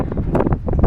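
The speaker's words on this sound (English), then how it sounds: "We have wind" Wind gusts outdoors among blowing sand and sunshine, a brief close rumble and buffeting against the microphone in uneven bursts.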